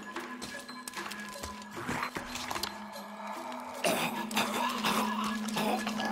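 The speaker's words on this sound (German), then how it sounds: "die haben alle hier ganz schön Husten, ne?" Characters cough repeatedly in Shadow of the Tomb Raider, in a fume-filled tomb setting. Scattered short harsh bursts, moderately close, sound over a steady low game ambience and background music.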